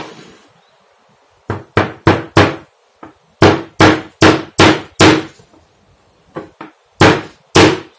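A hammer drives pins into a bar to hold wire taut, landing about fourteen sharp, loud metallic blows in uneven bursts of quick strikes separated by short pauses, heard alone without talk.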